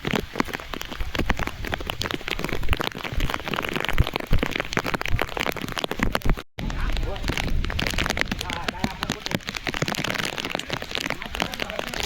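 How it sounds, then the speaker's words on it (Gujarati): Steady rain patters on the ground and foliage during a hillside nature trek at Abhapara, a dense continuous hiss broken by one brief dropout, with people talking over it. "વરસાદ ચાલુ હોય ને"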